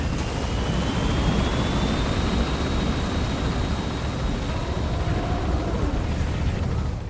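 A helicopter in Metal Gear Solid 5 drones continuously, a dense steady rotor and engine roar with a faint high whine, sustained and unchanging with no voices.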